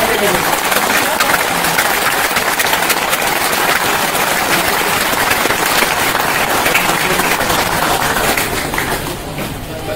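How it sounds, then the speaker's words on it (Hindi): An audience claps loudly and steadily at an indoor gathering, with the applause thinning near the end. A voice speaks faintly beneath it. "एक बार जोरदार तालियां मैडम के लिए।"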